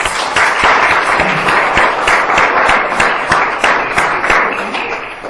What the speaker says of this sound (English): let me give you a quick round of applause, because you really deserve it